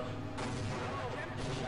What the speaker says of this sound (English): Those are some Doom explosions.